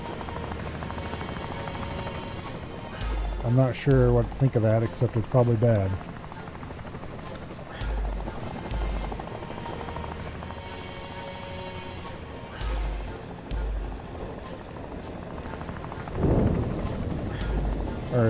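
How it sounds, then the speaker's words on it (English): A helicopter in the tactical game Door Kickers 2 thrums with a steady rotor drone under someone talking, joined by a few brief louder bursts. "That sounds like a helicopter."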